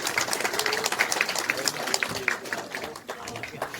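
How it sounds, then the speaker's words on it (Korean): Applause from an audience at a local citizens' regional meeting: a dense, fairly close patter of many hands clapping at once, steady for several seconds before easing slightly. "박수 한번 쳐주세요"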